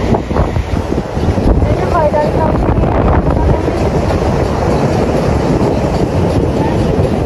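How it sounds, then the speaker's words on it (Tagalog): Strong flood current rushing past after high waves swept away a long-standing house, a loud continuous broadband roar with wind buffeting the microphone throughout, no clear speech over it. "Grabe, ang lakas ng nakakatakot. Lakas ng agos."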